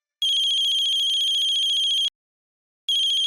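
A phone rings with a bright electronic trill, a long burst, a short silence, then it starts ringing again.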